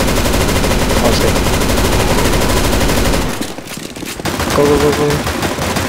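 Dense, continuous automatic gunfire from a CS:GO Zombies match rattles loudly for about three seconds, drops briefly, then resumes with more rapid shots, while players shout over the shooting.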